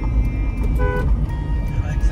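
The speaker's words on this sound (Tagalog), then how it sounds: "Busina ka, ano, dalawang tutut." A car horn gives a short, bright toot from inside a car during a driving lesson, heard close and clear above the engine rumble while people talk.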